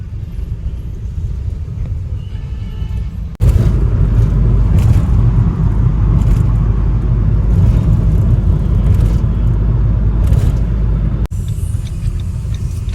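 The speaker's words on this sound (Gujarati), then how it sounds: "ગાડી સર્વિસ રોડ પર ઉતારી દીધી" A car travels along a road in Ahmedabad, pulling onto a service road near a bridge: a steady, loud low rumble of engine and tyres fills the whole stretch, with a brief dip in level before and after the louder middle section.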